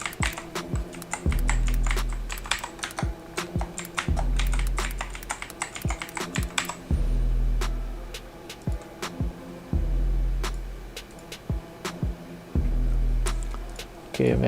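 Steady bursts of typing on a computer keyboard, with crisp close keystrokes in quick runs separated by short pauses, entering a username and password during an account setup; a low hum sits beneath and there is no talk.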